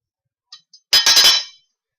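Metal hex nuts dropped onto a tin pie pan: two faint light ticks, then a quick cluster of bright metallic clinks ringing briefly, close and alone.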